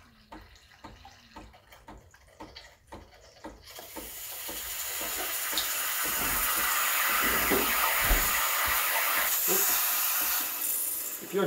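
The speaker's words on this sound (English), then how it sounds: "It's going to spurt out some water, which is the cold water before the steam starts coming out." The steam wand of a Breville Barista Express BES870 espresso machine first spurts and sputters cold water in faint bursts, then breaks into a loud, steady, rising hiss of steam that holds to the end.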